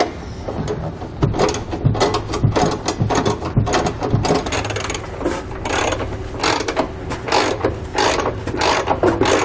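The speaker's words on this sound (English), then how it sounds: "we can then use a wrench to snug everything up" A wrench snugs up the bolts while a Curt trailer hitch receiver is fitted to a 2018 Buick Encore. Close, loud ratcheting clicks come in quick repeated bursts along with metallic clanks, and no one speaks.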